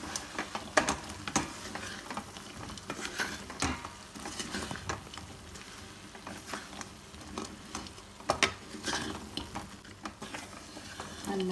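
Fried chicken for chicken 65 stirred and mixed in a pan at home, with a steady low sizzle broken by frequent scrapes and taps of a spatula against the pan.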